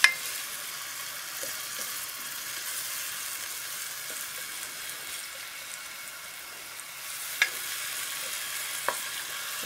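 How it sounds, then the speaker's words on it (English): Okra frying in a hot pan, Egyptian style, gives a soft, steady sizzle with faint stirring taps, quiet and close, with no voices. "Just stir it for a second or two before we drop the garlic."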